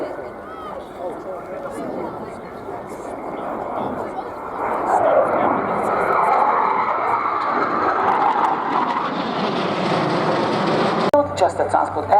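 Spartan military transport aircraft roaring through a flying display, a broad steady engine drone that swells louder midway and holds, with a voice talking over it throughout.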